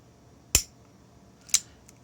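A Walther CCP pistol's firing pin safety gives two sharp, crisp metallic snaps about a second apart, close and clean, followed by a faint small click.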